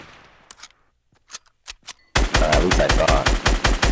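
Video game gunfire: a few scattered single shots, then a loud, rapid burst of automatic fire with a steady rhythm, close and dominant, while a player talks briefly over it.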